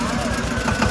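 An Eicher 188 tractor engine idles with a steady low chugging rumble up close, while someone talks over it.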